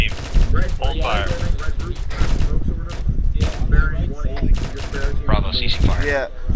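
Sustained Arma 3 gunfire during a town assault training operation: repeated loud gunshot bursts and rattling fire run throughout, with radio voices talking over the shooting.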